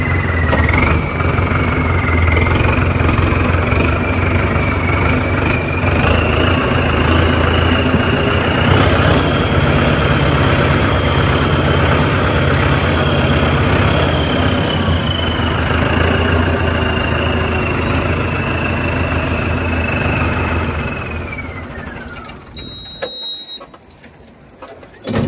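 A tractor engine runs steadily while driving a mulcher, a loud continuous mechanical drone with a rising whine that holds for about twenty seconds before the engine winds down near the end.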